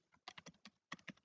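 Computer keyboard typed in short bursts of keystrokes while entering Java class code, with clusters of rapid clicks separated by a brief pause, close and clear with no talking.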